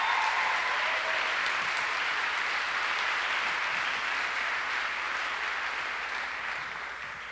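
Audience clapping for a high school jazz ensemble at an evening show, a dense, steady roar of many hands, loud and sustained, tapering off slightly at the end.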